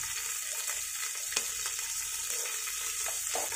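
Moong dal and green chillies frying in a pan for vegetable upma, a continuous crackling sizzle with stirring scrapes and a few sharper spatters, close and steady without any talk.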